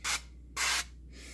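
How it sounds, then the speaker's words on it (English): Cooking oil sprayed from a can into a meatloaf pan, two short hissing bursts in close succession, near and loud, then a quieter third puff. "Just spray a little bit of oil in there."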